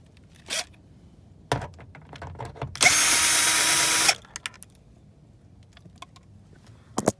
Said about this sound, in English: next step, remove all the screws.